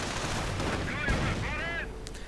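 A video game battle in Company of Heroes: a grenade explosion and gunfire crack loudly, with a voice talking over the combat.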